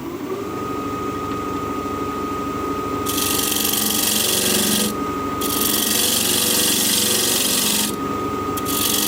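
A wood lathe spins a pedestal bowl blank at about 1400 RPM, a steady motor hum broken by loud, close rasping bursts as the cutting tool scrapes the wood.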